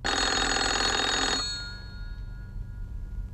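A telephone rings once in a bright, steady electronic tone, lasting about a second and a half before cutting off and leaving a faint lingering hum.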